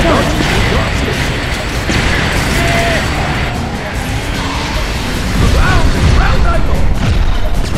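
A missile fires during a Cars 2 video game battle race, amid dense, continuous racing noise with crashing and mechanical clatter, loud throughout and swelling near the end.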